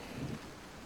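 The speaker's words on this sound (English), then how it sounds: "The sound of rain and thunder behind you" Rain with a thunderstorm, a brief low rumble swelling early over a steady, soft wash of rainfall noise, short and moderately quiet with no voices.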